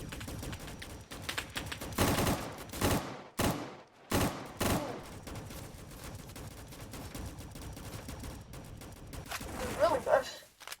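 Gunfire in a shooter video game, rapid bursts of shots and short volleys of varying loudness spread across the stretch, some close and sharp, others fainter, with a person talking at times.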